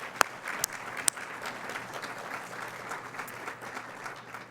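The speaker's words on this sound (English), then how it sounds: "Let's give them a big round of applause" Steady, moderately loud applause fills a charity nonprofit event hall, a broad wash of many hands with a few sharper claps standing out near the start, no talking over it.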